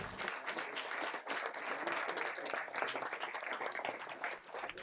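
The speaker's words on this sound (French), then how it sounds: "Merci de l'applaudir." Crowd at a political gathering in Paris clapping to welcome a remote guest, steady mid-level applause with distinct individual claps running throughout, slightly distant and without a clear start or finish.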